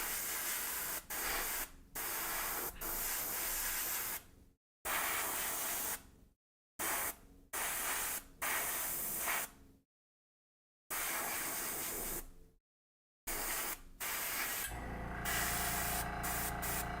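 An airbrush sprays paint onto miniatures in repeated bursts of soft, steady hiss, each lasting a second or more and separated by short pauses of silence, with one longer final burst.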